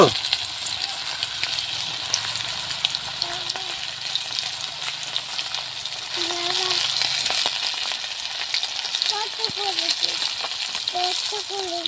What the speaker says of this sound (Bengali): হালকা হালকা করে, বেশি আঁচ দেবো না, হালকা আঁচে ভাজবো